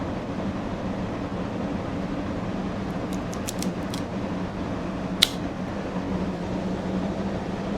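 A cutter clips open a Caldwell Midnight Express cigar: a few faint ticks, then one sharp, close snip over a steady background hiss.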